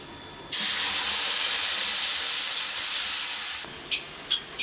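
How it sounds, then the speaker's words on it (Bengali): Whisked yogurt hits hot oil tempered with cardamom, bursting into a loud, steady hiss of sizzling that fades slightly over several seconds, then cuts off, leaving a few small pops and clinks. "এলাচটা দেওয়ার পর এখন আমি যে দইটা ফেটিয়ে রেখেছি এই দইটা এখন দিয়ে দেবো।"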